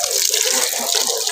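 Water rushes steadily and close into a vegetable garden bed of okra and chili plants, a continuous splashing flow with no voices.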